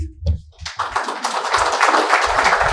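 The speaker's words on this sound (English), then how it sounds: "Can we have another round of applause, please?" An audience at a water management conference breaks into applause after a presentation, starting with a few claps and swelling into steady, close clapping that continues to the end.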